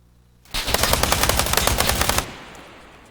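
A rapid automatic burst of gunfire from ArmA 3 with the 3CB sound mod, loud and close, lasting under two seconds with distinct cracking shots and a short fading tail.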